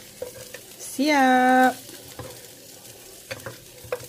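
Crispy fried shallots are stirred into fried chicken in a pan, a close clattering scrape and sizzle under the cooking, with a brief loud tonal sound in the middle and a short spoken word.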